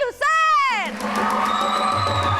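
A television studio audience cheers to welcome a guest: a rising whoop, then steady, loud crowd cheering and noise that carries on to the end.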